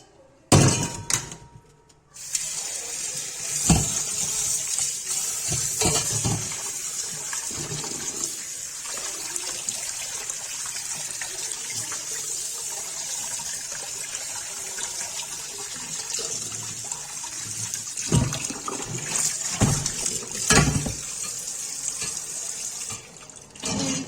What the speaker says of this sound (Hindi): ठंडे पानी में धो देंगे।